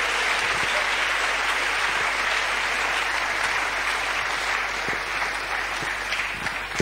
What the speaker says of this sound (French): Acclamons pour lui. Let us clap for.